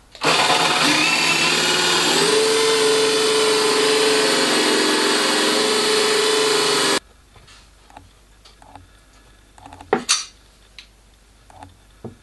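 Power tool cutting a scallop into the top of a wooden drawer front, a loud steady whir lasting about seven seconds that stops abruptly, followed by faint clatter and handling sounds.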